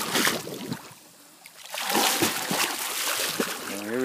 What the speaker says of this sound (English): Here we go with the splashing again.